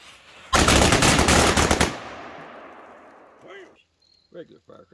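A dense burst of Duck Brand firecrackers crackles loudly in rapid succession for over a second, then fades into a lingering echo, with brief faint voices afterward.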